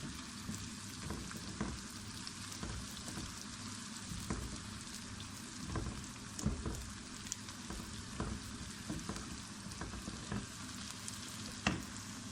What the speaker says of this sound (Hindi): जीरा हमने प्याज के साथ ही डाला हुआ, इसको हल्का फ्राई करेंगे।